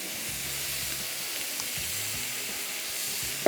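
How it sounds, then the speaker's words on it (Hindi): Minced meat frying in a pan, a steady soft sizzle and hiss throughout, with low muffled stirring thumps underneath and no talking. "कीमे को हम थोड़ा थोड़ा फ्राई करते जाएंगे साथ साथ"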